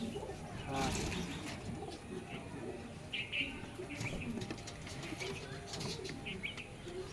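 Kalanka pigeons, a male and a female, coo softly in a loft during a home sale. The faint cooing and a few flutters sit under people talking nearby.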